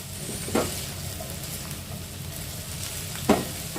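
Mixed vegetables, diced onion and paneer fry in a pan with a steady low sizzle and two brief stirring scrapes, close by and without talk.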